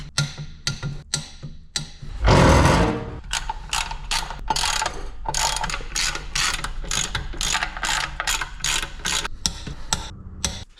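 A ratchet clicks in quick repeated bursts while bolts are run down on a ZF5 transmission's gasketed top plate, with a brief louder metallic rasp early on; close, no talk.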